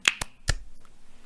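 A group claps once together: a few sharp, bright claps ring out close by, three quick separated hits followed by quiet.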